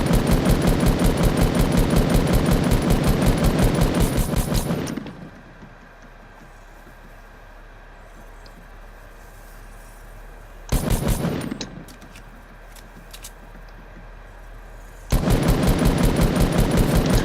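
Rapid automatic gunfire from the video game Fortnite, loud and continuous in a long burst, then a short burst and another sustained burst after pauses of quiet game ambience.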